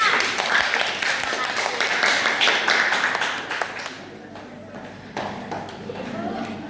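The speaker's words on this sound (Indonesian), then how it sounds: "terima kasih ya, tepuk tangan untuk temannya" Classroom students clap for a classmate, a dense patter of hand claps for about four seconds that thins out, with a teacher's voice talking over it.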